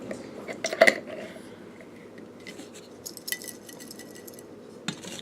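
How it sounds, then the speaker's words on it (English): A lid being fitted onto a small glass spell jar, with a cluster of close glassy clinks and taps near the start followed by softer scattered knocks and a final tap. "Okay guys, so I'm going to add the lid."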